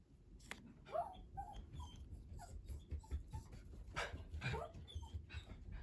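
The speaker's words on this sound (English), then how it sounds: "dog just came in." A dog whimpers softly in a quiet indoor room, giving a series of faint, high whines and small breathy sounds spread over several seconds.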